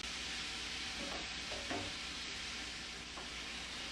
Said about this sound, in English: I just transferred it right on my grill.